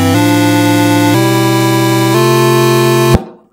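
Chiptune chords from an NES sound chip, two pulse-wave channels with a triangle channel, changing through three sustained chords about a second each, loud and steady, then cutting off sharply with a short decay.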